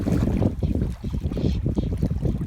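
Gusty wind and rain sweep over water during a bamboo-rod fishing trip, a steady broadband rush with fluctuating gusts buffeting the microphone throughout, no voices.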